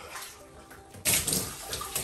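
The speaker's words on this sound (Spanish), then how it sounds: "Le estoy poniendo lo que es el agua para ver cómo va a quedar." Water poured into a bathroom bathtub to rinse it after scrubbing: a quiet lull, then a sudden close splash and rushing gush that keeps flowing with small surges.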